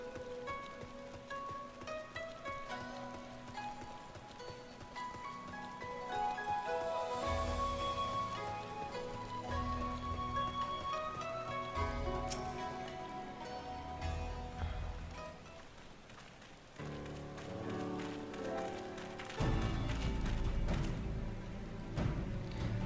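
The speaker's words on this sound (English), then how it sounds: "So just gonna fight in the rain." Steady rain falling in the video game Final Fantasy XIV, a soft continuous patter that plays on its own under a layer of game music, with heavier low thuds swelling in at moments.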